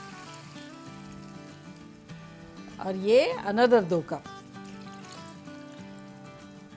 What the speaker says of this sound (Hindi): इसमें अब हम डालेंगे 4 कप पानी